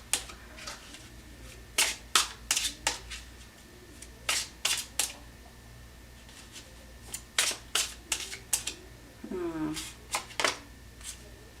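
Tarot cards are drawn and shuffled in crisp, rapid bursts of riffling and slapping, several clusters separated by short quiet gaps, with a brief voice sound near the end.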